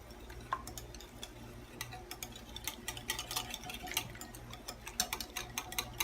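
Cake donut batter stirred with milk in a bowl, a quiet, steady run of small clinking and tapping strokes from the utensil with a faint wet stir underneath and no talking.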